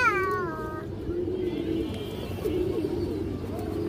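A large green-necked male pigeon gives low, throaty coos that rise and fall in short phrases, with a brief higher whining call at the start and faint background noise.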